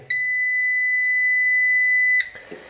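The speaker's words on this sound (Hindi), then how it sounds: "तब तक दबाकर रखना है जब तक आपकी बजर बंद नहीं हो जाती" The buzzer of a 1.2 kW Inverex solar hybrid inverter sounds one loud, steady electronic beep for about two seconds while the enter button is held, then cuts off abruptly.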